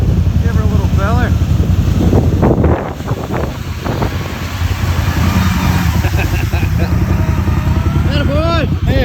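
A Can-Am Outlander 850 XMR ATV engine drones loud and close while driving on a trail, steady throaty rumble with shifting revs, wind buffeting the microphone and voices talking over it.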